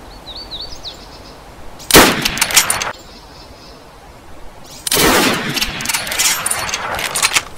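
Two loud bursts of rapid gunfire in the video game DayZ ring out, each about a second or more long, separated by quieter ambient stretches with a faint whistling tone.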